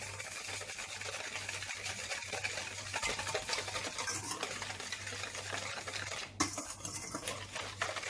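A spoon stirs a cocoa cookie dough mixture in a bowl, giving steady close scraping and clinking against the bowl with a low background hum and no talk.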